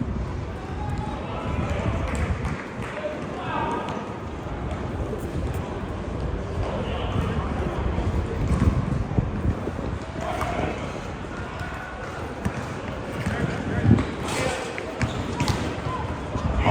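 Basketball bouncing during a late-night street court game in Brooklyn Heights, New York City, with steady dribbles blending into a busy mix of footsteps, outdoor crowd noise and nearby talk.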